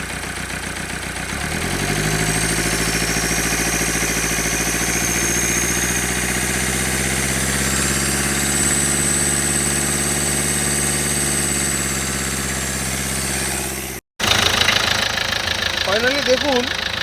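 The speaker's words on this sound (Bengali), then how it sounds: "দেখতেই পাচ্ছেন গাড়ির সাউন্ড, পরিষ্কার গাড়ির সাউন্ড আছে।" A Nissan car engine after an injector timing change, running steadily and loud close by, with low rumbling harmonics that climb as it is revved. It cuts out briefly near the end, then returns alongside a voice.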